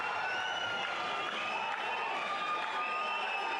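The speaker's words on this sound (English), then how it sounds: "the crowd erupt, and Verdi have the lead" Football crowd at an Australia Cup 2023 semi-final erupting after a goal, a dense continuous roar of cheering and shouting from a large stadium audience, steady and sustained throughout.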